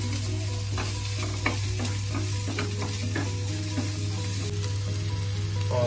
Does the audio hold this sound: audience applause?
no